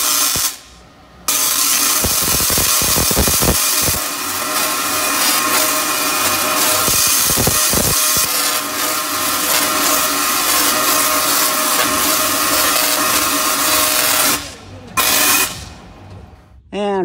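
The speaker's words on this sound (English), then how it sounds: "it's a simple device with a high step-up transformer that puts out some pretty cool sparks" Tesla coil with a high step-up transformer, run by a performer for entertainment in a parking lot, crackling and buzzing loudly and almost continuously with sharp bursts of spark discharge, then briefly cutting out near the end.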